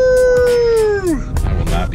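People in a car give a long, loud imitation dog howl that bends downward at the end, followed by laughter and chatter.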